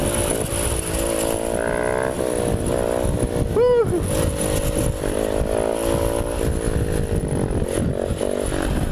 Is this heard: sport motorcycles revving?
yes